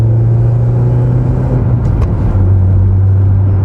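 A BMW E46 Touring with a non-turbocharged engine, heard from inside as a loud, steady low drone that shifts pitch partway through as the car pulls, with no talk over it.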